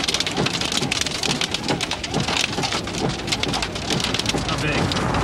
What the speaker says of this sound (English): Pretty small hail here.